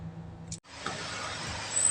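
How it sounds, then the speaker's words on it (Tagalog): A car engine idles while it warms up, a low, quiet hum that cuts out briefly and returns as a faint, steady broadband drone. "habang nagpapainit tayo ng sasakyan"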